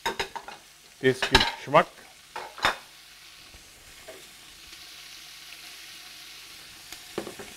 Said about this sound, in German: Karotten, Sellerie, Zwiebeln, das ist einmal ganz wichtig.